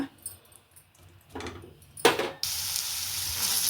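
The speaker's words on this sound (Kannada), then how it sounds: "ಈ ಈರುಳ್ಳಿ ಹುರ್ಕೊಳ್ಳೋಣ" Chopped onions dropped into hot oil on a gas stove for country-style chicken biryani, a few soft clatters followed by a loud, steady hiss of frying close by.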